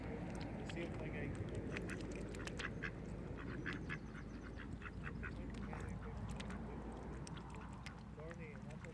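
Mallard ducks quack repeatedly at Corbet Lough in Ireland, a steady run of calls over constant outdoor background noise, with people talking nearby.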